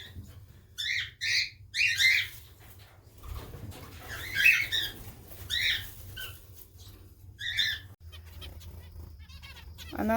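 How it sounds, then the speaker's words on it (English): Small zebra finches in an aviary giving short, bright chirps in scattered bursts over a low steady hum, fairly close and moderately quiet. "I'm out with the zebra finches"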